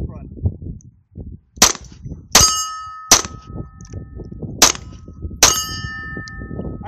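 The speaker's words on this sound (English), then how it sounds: "We're shooting at red plates. They're about 10 yards, 10 inch and an 8 inch." Five sharp .22LR shots from a Sig Mosquito pistol ring off steel plates about 10 yards downrange, each crack followed by a bright metallic clang, spaced irregularly over faint background noise.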